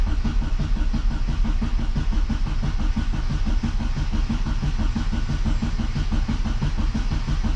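A Classic Mini's starter motor cranks the engine continuously, a steady rapid churning whir that stays loud and close without catching.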